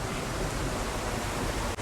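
A waterfall beside a restaurant in Pak Chong, Thailand, a film location, roars as a dense, steady wash of falling water, loud and close, with no pauses.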